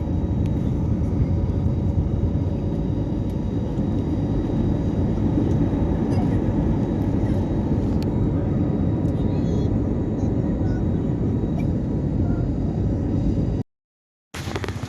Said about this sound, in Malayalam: ആ ഫ്ലൈറ്റ് ഒപ്പം പൊന്തിയത്